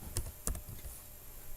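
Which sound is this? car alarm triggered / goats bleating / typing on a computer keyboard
typing on a computer keyboard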